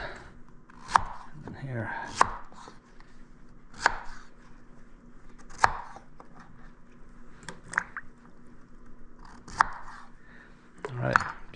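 A knife cutting a sweet potato into quarters on a board, with a handful of firm, separate chops at irregular intervals. A voice speaks briefly between the cuts.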